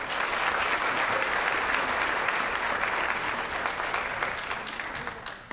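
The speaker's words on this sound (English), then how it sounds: "So let's give them all one more round of applause." A large audience applauds a graduating high school class at a graduation celebration, with dense, steady clapping that holds loud and even throughout and tapers slightly toward the end.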